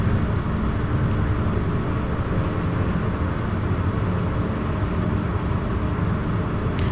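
Airliner cruising in a flight simulator game on the way back to Sydney Airport, a steady, constant engine drone that holds evenly throughout with no variation and no voices.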